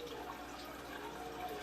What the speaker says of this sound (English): I'm just rinsing it off